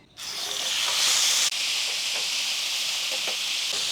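Small fish tipped into hot, lightly salted mustard oil in a pan burst into a loud, close sizzle that holds steady and hissing, with a brief clank partway through.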